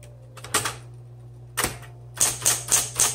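A 1960s Smith-Corona Coronet Automatic 12 electric typewriter clacks through a few scattered keystrokes, then a faster run of sharp strikes, all over a steady motor hum.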